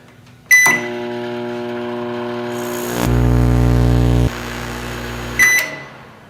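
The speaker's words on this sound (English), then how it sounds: "We got a working microwave." A microwave oven runs with a steady electric hum, opening and closing with sharp beeps and a click, its drone louder in the middle.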